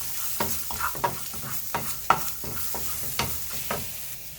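Shallots and garlic sautéing in a pan for ginger theeyal, a steady sizzle broken by repeated sharp scrapes and clinks of a spoon stirring, close and moderately loud with no talking.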